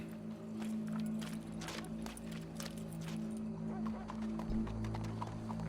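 Horse hooves clip-clopping in Red Dead Redemption 2 over a steady low game ambience, with a faint whinny possible and occasional talk nearby.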